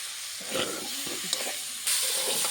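Vegetables with spices sauté in a pan for a Bengali fish curry with potato, flat beans and eggplant, giving a soft sizzle and stirring scrapes, then a louder steady hiss as the heat rises.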